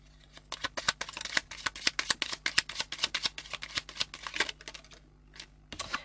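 A deck of Lenormand cards is shuffled for a reading, a fast run of close, crisp riffling snaps that slows and pauses near the end, with no talking.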